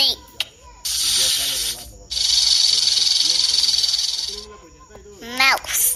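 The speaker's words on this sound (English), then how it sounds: "Snake." A snake hisses in two long, loud, breathy bursts, the second one longer, with a voice talking briefly between and after them.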